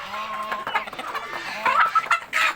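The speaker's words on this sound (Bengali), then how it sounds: "সবগুলো রানিং ডিম পাড়া মুরগি এবং সবগুলো নতুন রানিং ডিম পাড়া মুরগি" Fayoumi laying hens clucking at close range, a run of short, uneven, throaty calls that overlap and rise in pitch toward the end, with no people speaking.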